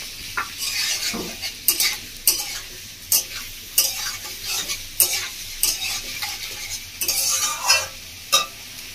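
Chopped onion and capsicum fry in hot oil for a tangra fish curry, a steady sizzle broken by repeated sharp scrapes and clinks of a spatula against the pan, close and fairly loud.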